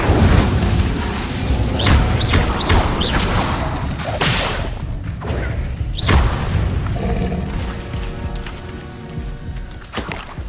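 Incendio fire spell cast in the Hogwarts Legacy video game: a loud whooshing burst with heavy thuds and crackling impacts, part of a dense, continuous stream of game combat sounds.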